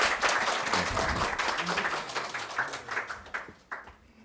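Audience applause of encouragement at an environmental education forum in Gangwon Province, a steady patter of clapping from a seated crowd that thins out and fades toward the end.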